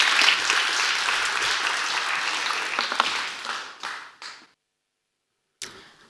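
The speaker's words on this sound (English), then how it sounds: "Big applause" Audience applause greets a speaker making her adaptTo conference debut on stage, a loud dense wash of clapping that fades out around four seconds, followed by silence and a brief sound near the end.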